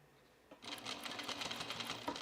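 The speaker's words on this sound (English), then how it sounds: "Sewing." A sewing machine stitches along the pinned, folded edge of a fleece half-zip sweater, starting after a brief quiet moment and then running steadily close up with a dense, rapid whir.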